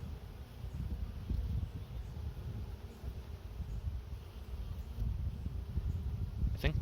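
Honeybees crowd a hive entrance on a summer day, bringing in loads of blackberry pollen; a low, steady droning buzz carries throughout at a moderate level.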